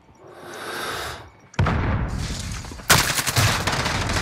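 Shotgun blasts in a Modern Warfare bomb-defusal match: a faint rumble, then a sudden loud burst and a second sharp volley of close gunfire with rattling reports, no speech.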